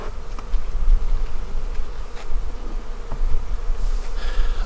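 A steady, dense buzzing of many honey bees close by while two hives are combined, continuous with a few brief louder passes from individual bees.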